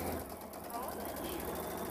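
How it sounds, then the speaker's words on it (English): Sewing machine stitching a quilt with a 1/8 inch seam, a steady continuous whirring hum running the whole time at moderate level, with voices talking in the room. "And finally, I'm sewing."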